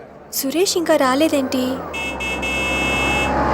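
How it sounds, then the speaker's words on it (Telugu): A car horn in a Telugu film scene gives a sustained, steady tonal blare after a short spoken line, continuing alone to the end. "హారన్ సౌండ్ బట్టి."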